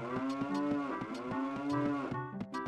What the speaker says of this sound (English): Nope, not talking to the cows.